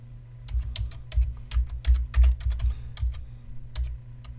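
Fast, uneven typing on a computer keyboard, with a steady run of sharp key clicks and heavier thumps, close and fairly loud, no voices.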